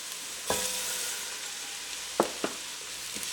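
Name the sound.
Arborio rice frying with garlic and onions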